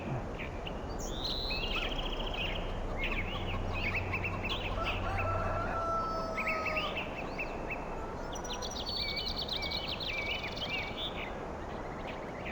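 Chickens in the Farming Simulator 2013 video game cluck and crow in a series of calls, moderately near, over a steady noisy ambient background with no talking.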